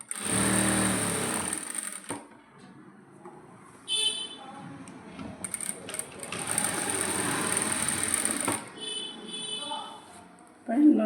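A sewing machine stitches fabric pieces for a maxi dress sleeve attachment, whirring in several short bursts of buzzing motor noise separated by quieter gaps, with a person talking between and over the runs.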